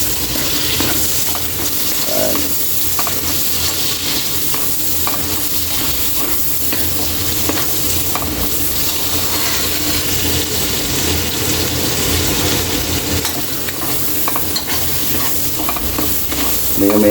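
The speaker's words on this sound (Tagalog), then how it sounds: "Lagay na rin natin yung siling green at siling pula." Green and red chili peppers fry with onions in a pan, a loud, continuous close sizzle with stirring scrapes and clatter running throughout, no voices.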